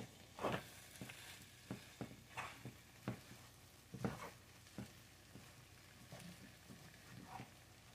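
Cheesy scrambled eggs being stirred in a pan, with a soft sizzle under repeated scraping strokes of the utensil, fairly quiet and close, in an even rhythm of about one or two strokes per second.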